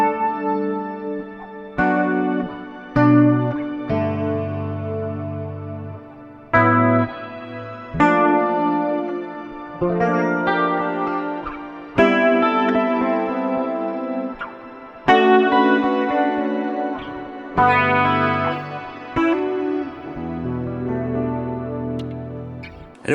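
An electric guitar runs through a Line 6 HX Stomp effects pedal with no amp block, playing loud clean chords and phrases with chorus and echo, each struck chord ringing out and fading before the next.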